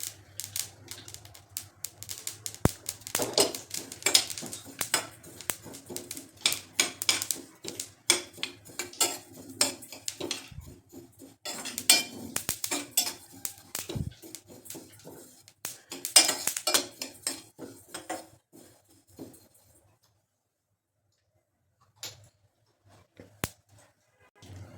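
Half a cup of sesame seeds dry-roasting in a pan for tilori, stirred with rapid rattling scrapes and clinks of a spoon on metal, busy and close, thinning out to near silence toward the end.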